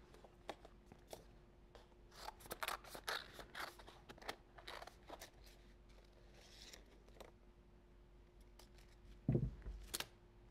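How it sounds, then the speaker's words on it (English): Scissors cutting out paper hand shapes for a Valentine's Day card, a quiet run of small snips, rustles and paper crinkles with uneven pauses, close and soft, ending in a louder handling rustle. "And now I'm going to cut this out."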